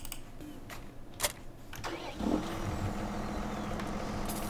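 A Case tractor engine in Farming Simulator 2017 starts up and settles into a steady, moderate idle hum after a few clicks and thumps.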